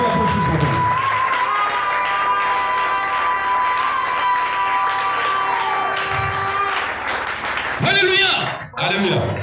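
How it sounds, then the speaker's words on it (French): A church congregation breaks into sustained applause and acclaim after an exhortation to praise the Lord Jesus Christ, a dense wash of clapping and voices continuing steadily, with a brief louder swell near the end. "Acclamez le Seigneur Jésus-Christ."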